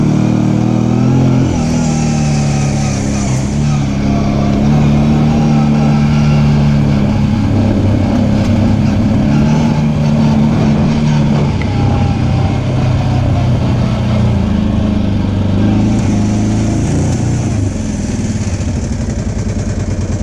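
Engine of a newly bought vehicle bogging down on its first ride, a loud continuous mid-pitched drone that rises and falls with uneven revs, close by with no talk over it.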